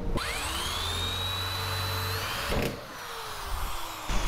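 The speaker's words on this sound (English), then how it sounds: "Whenever you drill out rivets, just like I did, it leaves that ring on there." A power drill whines at high pitch while drilling out rivets on an aluminum jon boat, a sustained close whir that briefly dips and restarts near the end.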